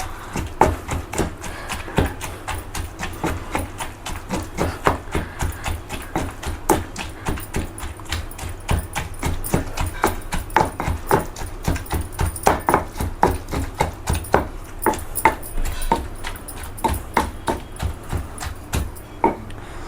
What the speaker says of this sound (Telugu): ఇలాగా మొత్తం కలిసిపోయేలాగా చక్కగా దంచేసుకుందాం ఒక 2 నిమిషాలు